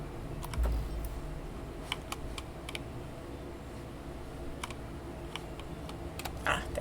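Computer keyboard typing comes through as faint, irregular clicks and taps in short bursts, quiet and somewhat distant, over a low steady background hum.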